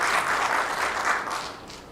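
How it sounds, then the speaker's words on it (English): An audience at a domestic violence awareness event claps steadily in a dense, even wash of applause that holds for two seconds and then begins to fade. "Please give me a hand of applause for her."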